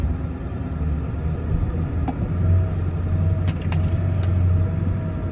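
A four-wheel drive monster truck idles and rumbles steadily out in the rain, a low continuous engine drone with a few faint clicks and thin tones over it, with no voices.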